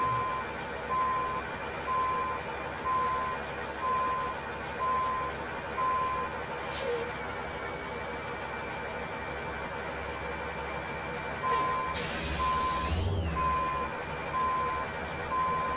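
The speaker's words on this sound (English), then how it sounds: "your engine sounds different to me. It sounds deeper and throaty." In American Truck Simulator, a truck with a 3406E engine backs up. A regular reversing beeper chirps in evenly spaced pulses over a low, steady engine drone, with a couple of brief mechanical swishes.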